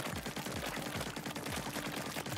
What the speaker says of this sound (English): Wait, that's a splatter shot spread.